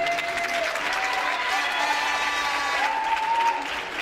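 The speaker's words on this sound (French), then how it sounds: "Applaudissez-vous même." Pageant contestants on stage at the Miss Ronde France 2015 election clap for themselves, a steady wash of applause and crowd noise with overlapping voices and background music.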